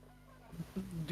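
A human voice imitates a murping cat, giving a few short, rising trill-like murmurs up close that start about halfway through after a quiet lead-in.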